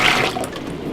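Liquid is poured from a bucket into a maple sap evaporator pan. It makes a short, close, sloshing gush of water.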